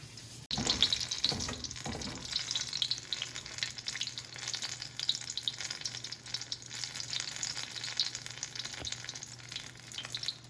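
Poblano chiles frying in hot oil for chiles en nogada, a steady, close sizzling hiss that runs the whole time, with a few heavier bubbling crackles right after they drop into the pan.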